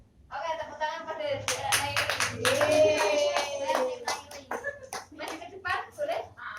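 Students in a classroom clap their hands in a short, uneven burst while children's voices chatter over and around the clapping.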